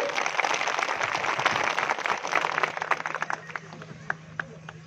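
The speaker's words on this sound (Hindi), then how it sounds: "जोरदार ताली बजा के स्वागत करिए।" At a political rally in Allahabad, a large crowd breaks into loud, dense applause that thins into scattered claps as it fades, with a voice carrying over the loudspeaker.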